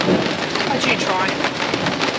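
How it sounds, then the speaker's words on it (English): A thunderstorm lashes a rooftop tent on a Land Rover Defender in Spain, with heavy rain roaring and rumbling close by in a loud, continuous wash. "I've never cooked in a thunderstorm before."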